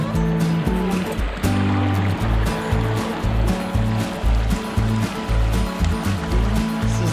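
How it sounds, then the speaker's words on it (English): Water flows steadily through a big creek at Devil's Den in Arkansas, a loud continuous rushing wash under a rhythmic low thumping that may be a boat or nearby movement. "This is a big creek, really pretty."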